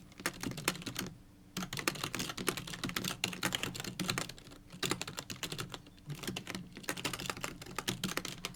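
Code typed on a computer keyboard, with close, rapid clicking keystrokes in irregular bursts separated by brief pauses.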